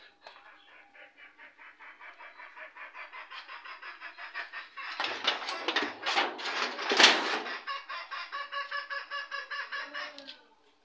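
Backyard chickens clucking in a steady, pulsing rhythm that builds gradually, swells into a louder, busier flurry of calls midway, then settles back into regular clucks before fading.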